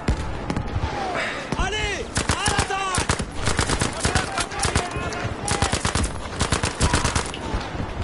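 Rapid bursts of MP4 submachine gun fire in a video game crackle in quick succession, loud and close, broken by short pauses, with a voice speaking in between.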